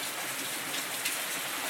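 Steady, close rain hissing and pattering on surfaces, a dense even wash of drops with no talk, outdoors on a rainy day.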